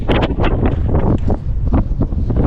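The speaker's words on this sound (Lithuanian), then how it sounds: "vėjas vis didėja" Strong wind near the sea buffets the microphone in loud, continuous gusts that swell and dip through the whole stretch, with no voices heard.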